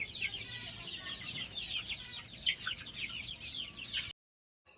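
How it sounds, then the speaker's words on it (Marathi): Hen clucking and squawking in short repeated bursts, close and fairly loud, continuing for about four seconds before cutting to silence. "मी ते कोंबडी धरली"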